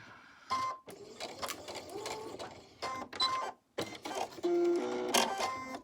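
A sewing machine stitching a quarter-inch seam on a quilt block, close mechanical whirring in several bursts broken by short pauses and some clicks, with no talking heard.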